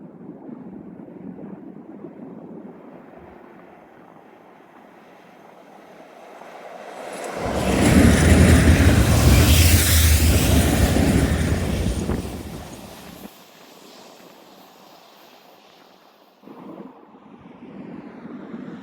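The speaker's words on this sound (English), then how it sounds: "we have our friends 69010 and 69014, the 3J42 on the railhead treatment train." Class 69 locomotives 69010 and 69014 haul a railhead treatment train past the lineside, a diesel rumble swelling as they draw near, peaking loudly for several seconds, then fading away under steady wind noise.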